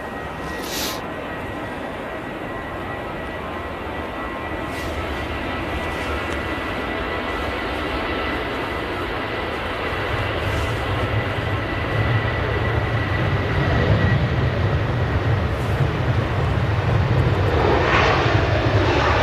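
Jet airliner engines roar steadily at Manchester Airport during early morning arrivals, a broad continuous rumble that swells louder toward the end as an aircraft draws near, with no talk over it.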